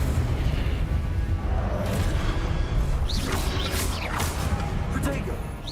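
A fiery Incendio spell blast in Hogwarts Legacy on PC: a loud, booming burst with whooshing sweeps that fills the moment, while a voice speaks alongside.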